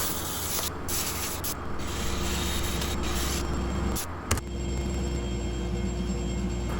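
Steady, loud abrasive whirring of power sanding on a punky, worm-damaged wooden burl, continuous throughout with a brief pause near the end.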